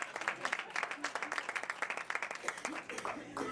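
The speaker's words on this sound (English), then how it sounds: "give my mother a round of applause" A crowd claps and cheers steadily throughout, a dense patter of many hands with voices mixed in, fairly close and lively.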